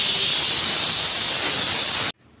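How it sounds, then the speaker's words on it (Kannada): A pressure cooker whistle releases steam in a loud, steady hiss that runs for about two seconds and then cuts off abruptly into near silence. "ಕುಕ್ಕರ್ ಕೂಗ್ತೈತಲ್ಲ"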